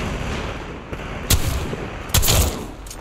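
Gunfire in a multiplayer shooter video game, with two loud, close shots standing out from steady background battle noise and a softer report earlier on.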